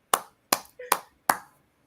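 Four sharp hand claps ring out, spaced roughly evenly and close by, each a crisp single smack. A brief voiced sound comes between the second and third claps.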